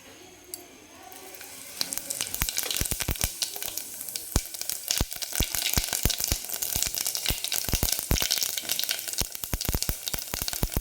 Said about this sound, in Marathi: तेल छान गरम झाल्यानंतर आपण याच्यामध्ये आता जिरे टाकून घेणार आहे